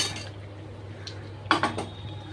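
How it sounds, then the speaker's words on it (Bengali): Potatoes tumble into a pan of fried, oil-releasing spice masala for aloo dum, giving a short clatter and clink at mid-clip over a low steady hum, with faint utensil knocks before it. "এবার আলুগুলো দিয়ে দিচ্ছি।"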